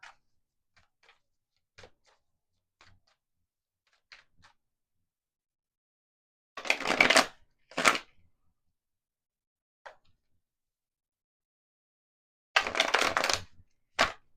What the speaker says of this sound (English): I've never shuffled in the air like that before.